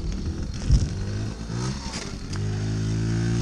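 Small 1978 Honda Express NC50 moped engine puttering close by on a cold ride, a steady buzzing drone with a brief clunk near the start and a rising rev toward the end.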